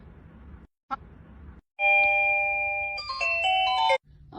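A loud TECKNET wireless plug-in doorbell chime plays a short melodic sequence of bright tones, close and clear, after a few soft clicks.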